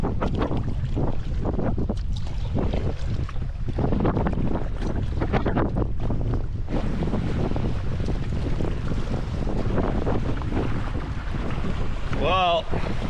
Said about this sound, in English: Wind is kicking up